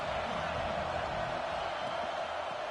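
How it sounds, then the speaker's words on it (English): Football stadium crowd noise during a game, a dense, steady roar of many voices that fills the whole stretch. "This crowd trying to make life miserable for this offense."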